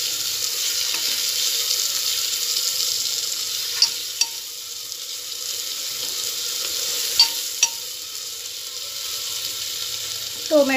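Tomatoes frying with browned onion in a pan for moong dal masala rice give a steady, close hiss throughout, with a few sharp clinks of a spoon or spatula and a louder scrape near the end.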